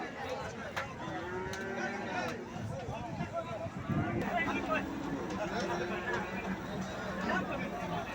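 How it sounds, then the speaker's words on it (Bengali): Dairy cows at a busy cattle market low repeatedly in long drawn moos, some near and some farther off, over a steady babble of people talking and trading. "দুধের গরু"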